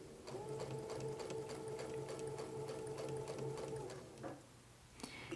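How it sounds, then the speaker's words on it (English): A sewing machine stitches quilt fabric with a lighter gray thread, a close, steady, rapid mechanical hum and clatter that runs for about four seconds and then stops, followed by faint handling sounds. "I'm sewing with a lighter gray thread so that you can see what the seam line looks like"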